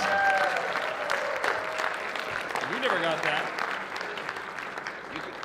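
Steady applause from a convention panel audience fills the clip, with people talking and calling out over the clapping.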